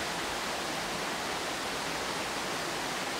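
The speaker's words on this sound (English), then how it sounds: "now I'm in the creek" Creek water flows steadily in a gully on a red stag hunt in Canterbury, a close, dense, unbroken rushing wash with no voices over it.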